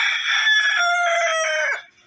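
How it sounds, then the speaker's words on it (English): A nearby rooster crows loudly in one long, drawn-out cock-a-doodle-doo that trails off and ends abruptly, with no talking. "That's the chicken making some of the noise."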